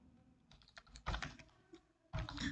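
Typing on a computer keyboard while entering data in Tally accounting software: sparse individual key clicks, then two dense bursts of rapid keystrokes, close and clear with no talking.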